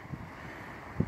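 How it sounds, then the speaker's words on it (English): Wind blowing at a lake with whitecapping water, a low, faint steady rumble with a couple of soft buffeting gusts, no voices. "It's windy."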